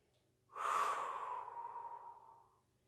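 A single long breath during a beginner Pilates abdominal exercise, close and breathy, rising quickly and fading slowly over about two seconds with no talking.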